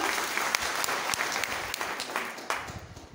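Steady applause from an audience of students and parents at a girls' school Form One orientation, for a class teacher; dense, fairly close clapping with distinct individual claps.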